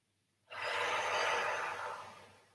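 A single long, deep breath drawn in during a shiatsu session, a soft airy rush that rises quickly, holds steady for about two seconds and slowly fades, close and fairly quiet.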